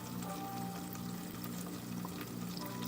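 Water draining from a pot of cooked rice tilted over with a knife holding back the grains, a steady continuous trickling pour in a home kitchen, with a faint background hum.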